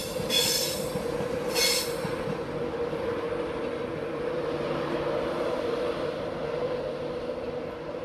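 A train speeds through Doncaster station, a steady loud rumble of wheels on rail with a sustained squealing tone and two sharp hissing bursts near the start, heard close and without talk.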